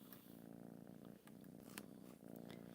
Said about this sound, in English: Is it really loud, the purring?